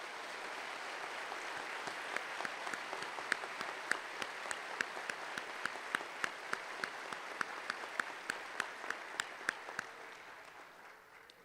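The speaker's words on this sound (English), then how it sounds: "please join me in a round of applause for everyone instrumental in the training" Applause at a police recruit class graduation ceremony, faint even clapping from a crowd with several sharper individual claps standing out, tapering off near the end.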